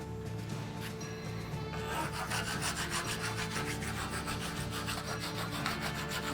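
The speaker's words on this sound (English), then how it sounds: "just keep doing it. rasping the inside of that, only about this far in" A rasp is worked back and forth inside a piece of guava root, making close, rhythmic scraping strokes that grow quicker and more regular after the first couple of seconds, with no talk.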